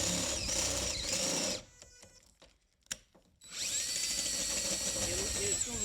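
A Harbor Freight drill bit cuts a corner radius into the metal roof of a Chevy Astro van, a loud, close, high grinding whine that stops briefly with a small clunk and then resumes steadily.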